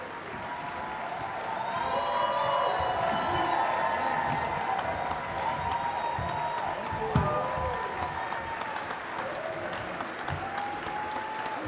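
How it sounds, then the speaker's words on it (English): A crowd at a Democratic National Committee forum applauds the seven candidates for party chairman, sustained clapping mixed with scattered cheers and crowd murmur, swelling early and then holding steady. "So let's have a big round of applause for the 7 candidates for the next chairman of the Democratic National Committee."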